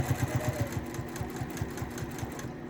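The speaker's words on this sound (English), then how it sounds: "we're just going to sew right up to that mark that we've put on the corner" Sewing machine stitching a quilt, a fast regular mechanical chatter of the needle running steadily at close range, alone without talk.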